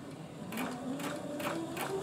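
A sewing machine hems chiffon fabric, rolling and turning the edge while stitching, its needle chattering in quick rhythmic bursts at close range, alone without speech.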